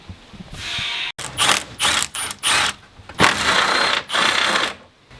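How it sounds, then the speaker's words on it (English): A ratchet wrench loosens bolts on the radiator of a 1996 Ford F-250, giving close, loud bursts of rapid clicking in several short runs separated by brief pauses, with no talking. "I gotta undo this bolt right here and this bolt right here."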